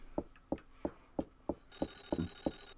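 A telephone rings in the Clock Tower SNES video game, a sharp, regular series of about nine electronic pulses, evenly spaced, with a thin steady tone joining partway through and no voices.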